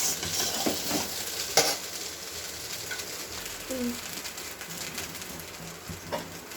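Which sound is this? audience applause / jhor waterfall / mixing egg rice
mixing egg rice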